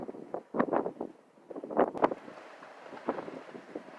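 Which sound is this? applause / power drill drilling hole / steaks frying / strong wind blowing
strong wind blowing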